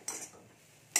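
Turmeric and chili powder being stirred in a frying pan, with two short, bright scraping clatters of a utensil against the pan, one at the start and one at the end, and a faint quiet stretch in between.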